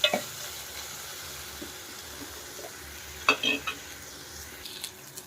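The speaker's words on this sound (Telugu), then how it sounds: "ఇప్పుడు చిన్న టమోటా అండి, చాలా చిన్న టమోటా. ఇది కూడా మంచిగా ఫ్రై చేసుకోవాలి." Small tomatoes fry in a pan with a soft, steady sizzle, broken by a few scraping stirs and clinks near the start and in the middle.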